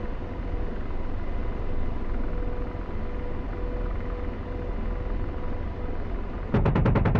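Simulated AH-64D Apache helicopter in DCS World, its steady rotor and turbine drone filling the clip, then a rapid burst of gun fire erupts near the end, loud and close.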